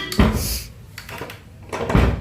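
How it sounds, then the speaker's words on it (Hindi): Room doors in a house are pushed shut, two solid thuds with a creak and soft rustle between them, close by. "जाने से पहले मैं रूम के लाइट सारे बंद कर देती हूँ एंड रूम के सारे दरवाजे बंद कर देती हूँ"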